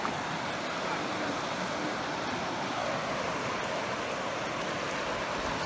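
Steady broadband rush of river water around a boat on the Allagash, continuous and fairly close with no voices.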